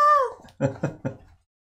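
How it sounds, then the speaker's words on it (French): A cat meows once with a clear, rising-falling cry, followed by three short, rough bursts close to the microphone. "un petit chat."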